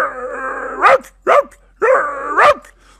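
A voice imitates a stray village dog barking through the night: two long, drawn-out howling yowls, each ending in a sharp bark, with a short yelp between them, all close and loud.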